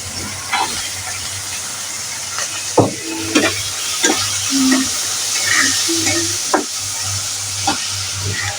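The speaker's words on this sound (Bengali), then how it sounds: "ফোড়নটা দেওয়ার পরে দিয়ে দিব পেঁয়াজ, রসুন এবং কাঁচামরিচ" Onion, garlic and green chilli frying in hot oil for a Bengali mixed vegetable curry, a steady close sizzle and hiss with occasional stirring clicks and spatula scrapes throughout.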